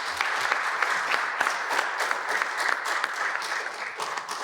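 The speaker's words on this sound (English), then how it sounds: "So a round of applause for Leon" An audience at a youth forum presentation applauds steadily, a dense, even wash of clapping from a room full of people that holds constant throughout.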